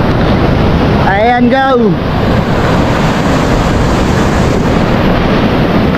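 Big waves and strong wind at sea during a storm: a constant loud roar of surf and wind buffeting the microphone, with a brief shout over it near the start.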